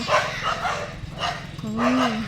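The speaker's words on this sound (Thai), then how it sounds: "น้องหมาอยู่ในรั้วนะคะเห่าขมืน" A dog barks from behind a fence in a Thai village lane on a rainy day, a few short close barks with a whine-like tone. Someone talks throughout.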